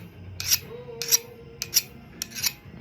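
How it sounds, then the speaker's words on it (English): A chainsaw file rasps across a hardened knife blade made from an old rasp, five short scraping strokes in an even rhythm, close and distinct in a quiet space. "we'll use a chainsaw file"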